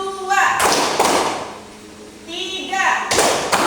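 A classroom group claps on a teacher's cue: two bursts of group clapping, near and fairly loud, with voices speaking and chanting around them.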